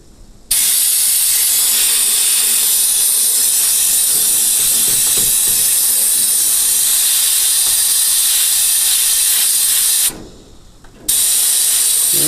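Gun parts are hit by an abrasive blasting nozzle, a loud, continuous roaring hiss that runs steadily, cuts out briefly for about a second, then resumes at full force.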